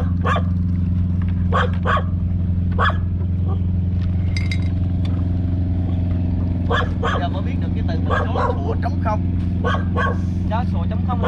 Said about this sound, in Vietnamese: Là nó cứ sủa, gặp không ai nó cứ sủa.